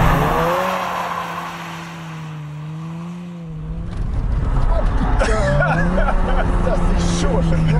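A BMW 323i with a 2.8-litre engine drifting, with a sustained engine drone and wailing tire squeal that shifts in pitch as the car slides, loud and close, with people talking over it.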